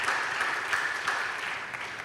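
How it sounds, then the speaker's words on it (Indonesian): Applause from a congregation at an online Easter church service, a brief wash of clapping that stays fairly even and moderately distant throughout. "Berikan tepuk tangan."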